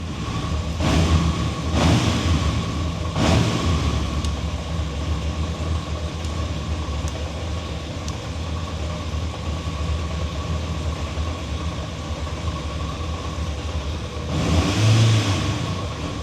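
A Yamaha XJ600N motorcycle engine idles steadily and close, with a few sharp revs near the start and another burst of revving near the end.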